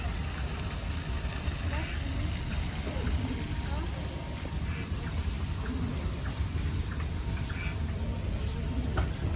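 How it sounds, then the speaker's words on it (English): A dense chorus of crickets and insects trills continuously at a night safari, with a steady high chirping layer over a low background rumble like a distant idling vehicle. "All set against a chorus of crickets."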